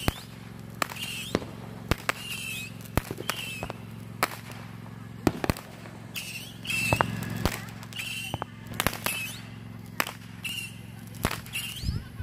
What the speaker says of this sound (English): She just lit a Saturn missiles.